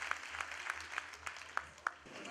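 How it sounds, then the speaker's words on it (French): A party congress audience applauds its president with steady, rhythmic clapping in unison, moderately loud in a large hall, with no voices over it. "On continue de l'acclamer"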